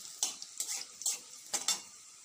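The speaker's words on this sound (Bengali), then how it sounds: "রসুন ভাজা হয়ে যাচ্ছে" Garlic frying in a pan of hot oil with a low steady sizzle, broken by a few brief stirring scrapes close by, with no voices.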